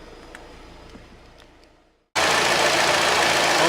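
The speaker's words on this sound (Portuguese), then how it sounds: "o motor tá trabalhando" A Fiat Fiorino with a water pump that was making noise has its engine running; a fainter sound fades to near silence, then a loud, steady, close engine roar starts abruptly and holds.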